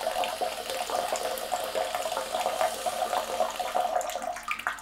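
A TOKYOSEAT Japanese bidet toilet seat runs its shower function, a steady hissing water spray with faint gurgles, fairly close and heard on its own.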